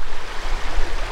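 Water of the Czarny Dunajec river rushes steadily along, a continuous close broadband wash with a low rumble and no speech.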